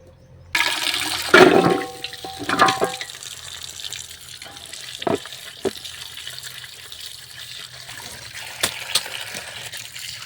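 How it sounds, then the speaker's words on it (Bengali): Water gushes from a tap as mud-covered roots are washed under it at an outdoor village water point, loud splashing at first, then a steadier running stream with occasional clatters, no talking. "কলতলায় আমি চলে এসেছি এগুলো ধুয়ে নেব ভালো করে পরিষ্কার করে"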